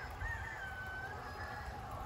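A rooster crows once in a long, drawn-out call, somewhat distant, over a steady background hum with no speech.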